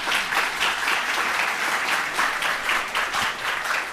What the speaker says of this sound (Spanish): Bien, se den un aplauso para eso, por favor.